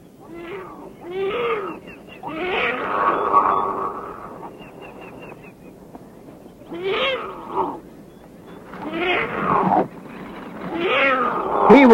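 Wild cat kittens snarl and hiss in a series of harsh, close bursts with short pauses between them, some drawn out into growling yowls.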